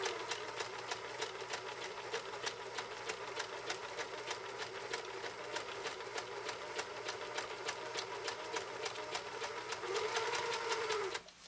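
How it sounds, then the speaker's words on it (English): A 1974 Kenmore 1050 sewing machine runs a steady, fast zigzag stitch through three layers of compressed felt, its needle clattering in an even rhythm throughout and speeding up slightly near the end before stopping. "3 layers of compressed felt using a compressed zigzag stitch."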